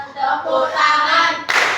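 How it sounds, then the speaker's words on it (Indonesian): Children in a classroom break into a short burst of hand clapping right after chanting in unison, the clapping loud and close and cut off quickly. "Tepuk tangan."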